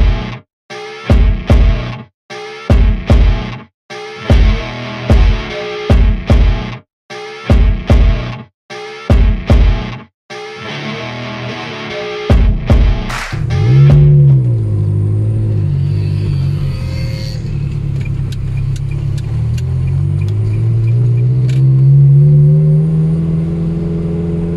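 Ferrari Modena on the motorway heading toward Lyon, its engine revving hard through repeated sharp bursts and gear changes, then settling into a steady loud drone with a deep rumble as it cruises.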